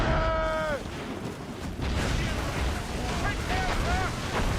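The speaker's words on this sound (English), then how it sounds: "Give him every cannon we got." Ship cannons boom in a naval battle in Assassin's Creed Rogue, a dense roar of blasts and rumble under crowd shouting and voiced lines.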